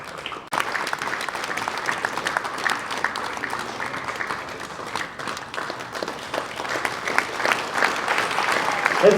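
Sustained audience clapping at a Meghalaya sports conclave, steady and fairly loud throughout after an abrupt start, with a lively crowd of many hands.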